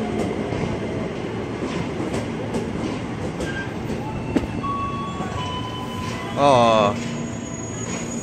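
An eight-car electric commuter train rumbles past a station with steady rolling noise, faint wheel clicks and a brief high squeal of wheels near the end; someone briefly exclaims.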